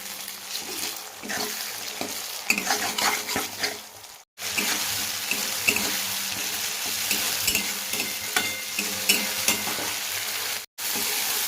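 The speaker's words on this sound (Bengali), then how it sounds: "ভালো করে কষিয়ে নেব দিয়ে দেবো টমেটো কুচি" Spices and chopped tomato fry in oil for a Bengali village-style koi fish curry, with a continuous crackling sizzle and frequent spoon scrapes that briefly cut out twice.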